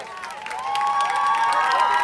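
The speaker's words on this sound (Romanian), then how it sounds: "aplauze pentru membrii trupei Dance World" Audience applause and cheering for the Dance World dance troupe at a Bucharest Days city festival event, a steady clatter of clapping that swells after the first half-second and holds loud to the end, with a high tonal line running through it.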